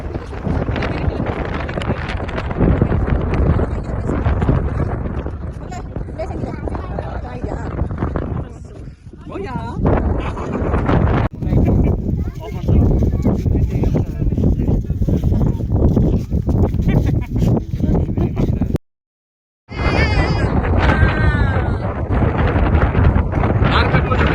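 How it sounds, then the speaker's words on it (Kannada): Strong wind roars and buffets the microphone in a loud, steady rush for most of the clip at Gokulam Grand Resort, cutting out for a moment near the end. "ಅಷ್ಟು ಗಾಳಿ ಜೋರಾಗಿ ಬೀಸ್ತಿದೆ ಅಲ್ಲಿ"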